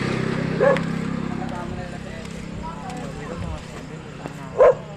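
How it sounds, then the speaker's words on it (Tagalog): A couple of distant dog barks ring out, one early and one near the end, over a steady background hum with faint people talking. "May aso."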